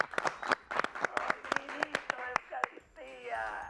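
An audience gives a short burst of rhythmic clapping for a guest from Ensanche Isabelita, the claps sharp and close, mixed with talking voices that carry on as the clapping fades.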